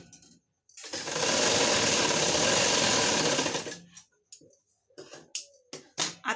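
A sewing machine stitches a blouse piece in one loud, continuous whirring burst of about three seconds, followed by short clicks and handling sounds of the fabric and machine.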